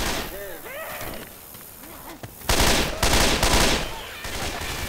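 Incendiary rounds fired in the video game Left 4 Dead, rapid loud gunfire that swells into dense bursts midway, mixed with talking voices over the shooting.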